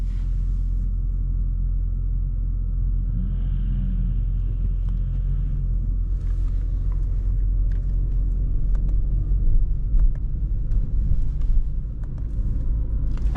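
A 2024 Dacia Duster Hybrid with a 140 hp automatic drives at night, heard from inside the cabin as a steady low rumble of road and drivetrain noise with faint clicks and a slight swell partway through, with no talking.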